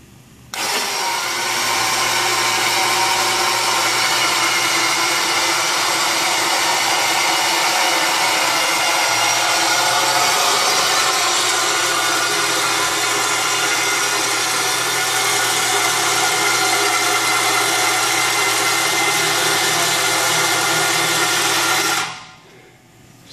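A homemade material handler lifts a load on its carriage, driven by a motor that starts at the push of a button and runs with a loud, steady whirring drone for about twenty seconds before cutting off.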